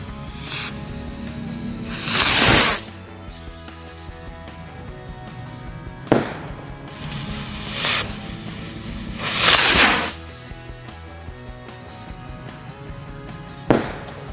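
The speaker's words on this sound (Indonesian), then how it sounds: "yang selanjutnya kita nyalain mercon roket yang jumbo" Jumbo rocket firecrackers launch one after another, giving several sharp hissing whooshes spaced a few seconds apart over a quieter outdoor background.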